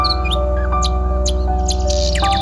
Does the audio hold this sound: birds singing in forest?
yes